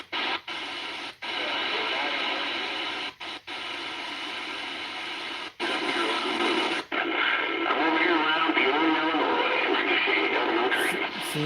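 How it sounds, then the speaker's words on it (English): Static from an 11-meter CB radio with a four-element antenna fills the clip during summer skip conditions, a steady hiss with crackle and garbled distant transmissions. It cuts out briefly several times and grows busier toward the end. "that's the scatter side noise"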